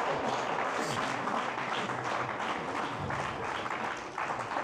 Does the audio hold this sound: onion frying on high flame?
no